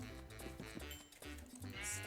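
Sheep in the Minecraft video game bleating in a few short, close calls, fairly quiet, with faint game noises around them.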